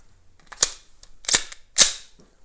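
A pistol slide racked to chamber a round while clearing a jam, heard as three sharp, loud metallic clacks spaced about half a second apart, with no talking.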